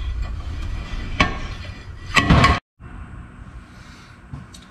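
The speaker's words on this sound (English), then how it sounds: "I had to get the slide hammer out for it." A slide hammer pulling a bearing from a Dodge transfer case: a few sharp metallic knocks, then a loud burst of clanging impacts before a sudden cutoff, followed by quieter workshop noise.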